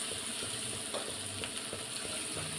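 Elephant foot yam (karunai kilangu) shallow-frying in a pan, a steady faint sizzle and crackle of oil with small pops, continuous and without voices.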